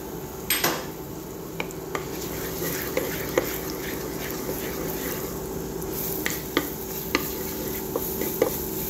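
Garlic frying in a pan for a lunch dish, a soft steady sizzle under scattered light clinks and scrapes of a spoon against the pan.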